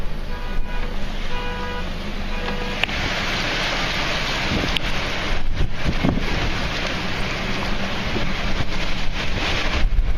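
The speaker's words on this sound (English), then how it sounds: "The wind's picking up again." Strong, steady dust-storm wind roars and buffets the microphone in an open parking lot in Phoenix, Arizona, loud and continuous with gusts swelling midway.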